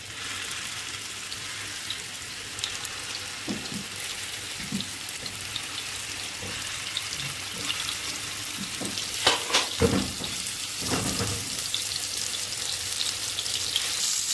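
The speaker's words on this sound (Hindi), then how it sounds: "ये पैन मैंने सिर्फ 2 चम्मच तेल के डाले हैं। अब इसमें कबाब डालते हैं।" Gola kebabs sizzle and fry in a pan with two spoons of oil, a steady soft crackle running throughout, with a few faint clinks and scrapes as the pieces are placed and shifted.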